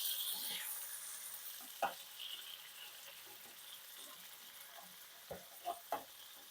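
Fish fillets frying in a pan over low heat, a steady soft sizzle with a few sharp clicks and splutters as pieces are flipped over one by one.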